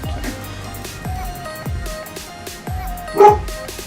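A dog barks and yips repeatedly in short sharp bursts, fairly close and loud, with a louder bark near the end, while people talk quietly in the background of an indoor makeup session.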